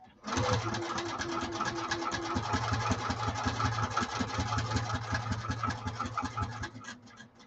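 A sewing machine runs a long basting stitch through about three layers of fabric along the edges of a saddlebag, a steady close rapid mechanical whir that starts abruptly and stops near the end.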